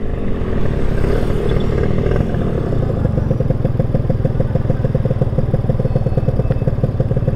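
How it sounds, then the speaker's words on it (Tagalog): A Honda Dio 50cc scooter with a 21mm flatslide carburetor idles up close, a loud, steady two-stroke putter with rapid even pulses and a faint rattle, running alone without talk. "Check nga natin kung may menor."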